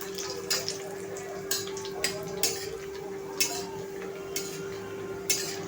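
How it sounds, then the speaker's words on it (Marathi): Dry fruits roast in ghee in a pan for halwa, a soft sizzle broken by scattered scrapes and clinks of a spoon stirring, close and fairly quiet. "आता आपण ह्याच्यामध्ये ड्रायफ्रूट जे आहे ते भाजून घेणार आहोत"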